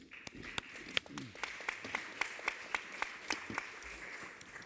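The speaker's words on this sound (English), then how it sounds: "Please give them a round of applause" A fairly sparse round of applause for sustainability forum panelists: crisp individual claps land in a quick, roughly even rhythm at a low, somewhat distant level, with a faint room murmur underneath.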